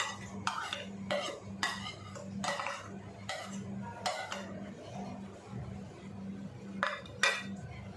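Guava salad being stirred together with crushed peanuts, chili, chaat masala and coriander, a spoon scraping and clinking against the bowl in repeated bursts, close and moderately loud with no talk.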